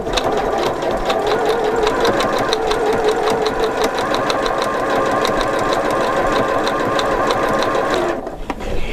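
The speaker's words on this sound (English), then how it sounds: "You're just doing a straight stitch and the machine is splitting both of those threads and you're getting the results that you want." A Janome 4120QDC-T sewing machine stitching a straight-stitch garment seam, loud steady rapid needle clatter with an even mechanical hum that runs continuously and stops abruptly near the end.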